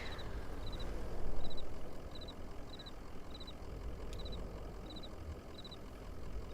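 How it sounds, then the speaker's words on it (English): A moving truck's engine idles in the game Kentucky Route Zero, a soft steady low rumble running throughout, with a faint repeating high beep-like pattern above it. "A moving truck rumbles softly to itself."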